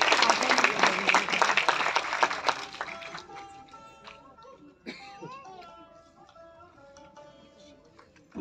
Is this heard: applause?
yes